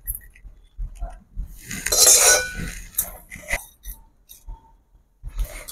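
Dry-roasted spices being tipped from a dry pan into a bowl, with scattered light clinks and scraping taps of metal on the dish, some louder rattling in the middle, then quieter knocks.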